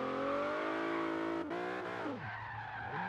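A Hyundai Genesis in Forza Horizon 3 revs hard and accelerates off-road, its loud engine note climbing through the gears with a brief shift dip and a squeal of tyres, filling the whole moment without any talking.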